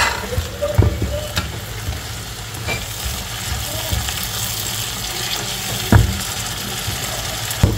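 Carrots and celery sizzle and crackle steadily in a hot pan for sisig, with a spatula occasionally knocking against the pan and faint watery hiss underneath.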